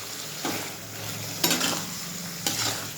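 Ground prawn paste sizzles in a hot pan while a spatula stirs it, with three distinct scraping strokes breaking through the steady frying hiss, close up and without voices.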